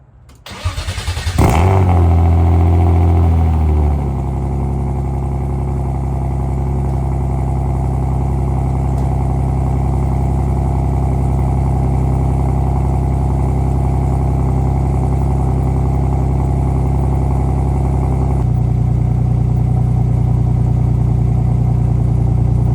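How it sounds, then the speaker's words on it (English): A turbocharged S50-engined BMW E36 M3 with a new exhaust cranks and fires on a cold start, flaring briefly before settling into a loud, steady, rumbling idle close by, with a slight shift in tone near the end. "Alright, so we're about to start it real quick. Give you a little cold start,"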